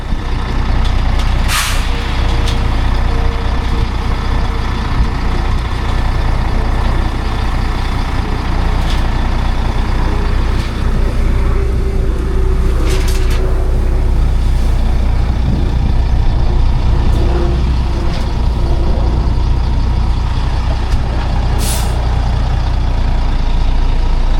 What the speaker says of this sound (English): the truck will be here with the soil